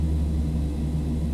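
Fokker 50 turboprop engines in a flight simulator, a loud steady drone with a low rumble and tonal hum, constant and close with no talking.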